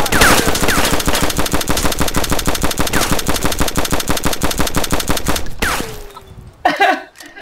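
Rapid automatic gunfire in a video game rattles on loudly and steadily for several seconds, then cuts off, followed by a couple of brief sharp bursts and clattering effects.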